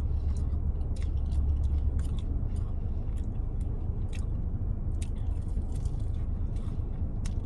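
Crunchy, spicy Korean-flavored Wingstop chicken wings being bitten and chewed close to the mic, a steady run of moist mastication with sharp crackling bites scattered throughout and no talking.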